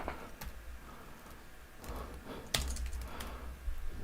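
Light clicking of a computer keyboard as someone types a short phrase, quiet, close and isolated, with a few sharper key taps in a loose irregular rhythm.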